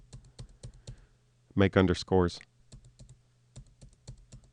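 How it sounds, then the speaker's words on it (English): Space bar on a computer keyboard struck repeatedly, sharp close clicks in a steady run, pausing while someone speaks briefly, then resuming with more taps. "I'm hitting the space bar. It has a certain sound."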